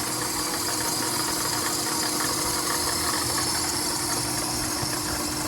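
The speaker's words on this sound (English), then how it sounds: "I can hear my belts a little bit louder, and there's a rattle going on" A Jeep Grand Cherokee engine idles close by with loud belt whine and a persistent rattle, a steady unbroken drone with no talk.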